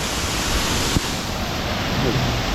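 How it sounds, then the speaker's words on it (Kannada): A waterfall plunges into a large pool, a broad, steady rushing roar that holds throughout, with a brief knock partway through and faint talk beneath the water noise. "ಇಷ್ಟು ದೊಡ್ಡ ಹಳ್ಳ ಮಾಡಿ ಅಲ್ಲಿ ನೀರು ವಾಟರ್ ಜಂಪ್ ಆಗೋ ಥರ ಅದ್ಭುತ"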